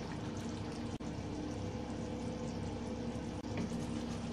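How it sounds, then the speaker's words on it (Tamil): A pot of fish curry bubbles on the heat with a steady low simmering rumble, broken by a couple of brief dropouts. "2 நிமிஷம் கொதிக்கட்டும்."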